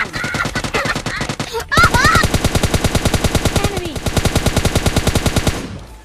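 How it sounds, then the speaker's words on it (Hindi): Rapid automatic gunfire in PUBG Mobile Lite, a long, rhythmic burst of close, loud shots after a brief shorter volley, with a voice heard faintly near the start. "भैया इधर के गोली गोली हो रही थी"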